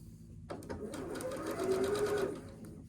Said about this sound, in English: nest those seams and then sew down this edge right here, which I'll go ahead and do for you